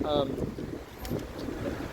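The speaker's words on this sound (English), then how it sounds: "It's windy, keeps on blowing in my Bible as well." Gusty wind buffets a microphone outdoors, producing a low, rumbling roar that swells and dips throughout, with faint speech-like sounds under the noise.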